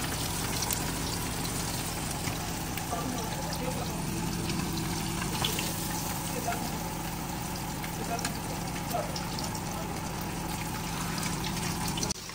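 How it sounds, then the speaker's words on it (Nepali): Rain falls steadily outside a home kitchen where oil is heating for fried fish, a constant dense hiss that runs unbroken the whole time with a faint voice-like murmur underneath. "आज बाहिर पानी परेको मौसम छ"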